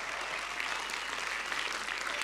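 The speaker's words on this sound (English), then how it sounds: "A round of applause for Eric" Steady applause from a press conference audience launching a Razer smartphone, dense and even clapping throughout without pause.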